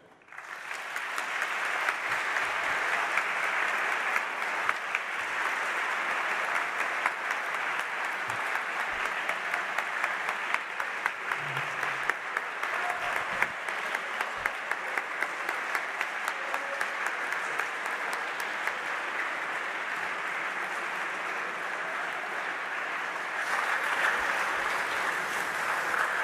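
Sustained applause from a lecture audience at the Sorbonne after an academician's talk, a dense, even roar of clapping lasting nearly half a minute without letting up.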